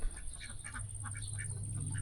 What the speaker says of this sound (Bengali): এই যে আমাদের হাঁসগুলো, এগুলো একটু পর ঘরে ঢুকে যাবে